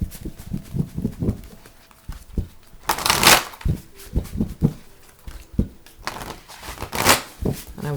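Tarot cards are shuffled by hand: soft patting and rustling with two louder riffling bursts, close up and without talk.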